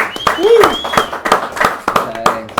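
About eight sharp hand claps ring out in a quick, uneven rhythm in a studio, mixed with a voice speaking Spanish over them.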